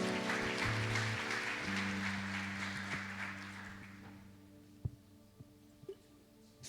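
A church congregation claps together over sustained organ or keyboard chords, the applause loud at first and then fading into scattered claps and a few knocks as the music thins out.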